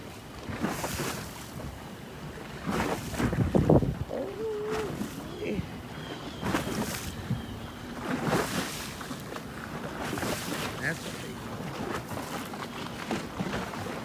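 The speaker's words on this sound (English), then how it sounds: "Here come four boats." Four approaching motorboats hum in the distance over wind buffeting the microphone and water sounds, with a voice occasionally speaking.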